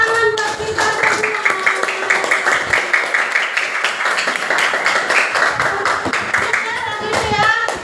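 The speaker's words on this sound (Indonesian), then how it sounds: "tepuk tangan buat kita semua" A crowd claps together for everyone, a dense and steady round of applause that stays loud and close for several seconds, with a few voices underneath.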